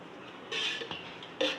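A spoon adds ghee to a bowl of flour for balushahi, with a few close clinks and scrapes of metal against the bowl, quiet and brief.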